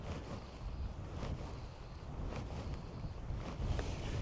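Wind gusts across an exposed Scottish loch, a faint broadband rush with soft buffeting against the microphone and a low rumble, with no voices.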